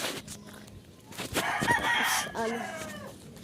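A rooster crows loudly nearby, a drawn-out call following a couple of short clucks, with outdoor background noise.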